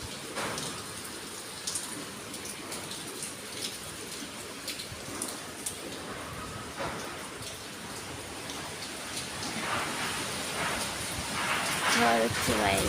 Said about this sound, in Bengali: এই ঝড়ের শব্দ শুনতে যাচ্ছে